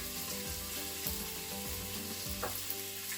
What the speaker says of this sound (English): You want to fry the pork for a good couple of minutes until it begins to caramelise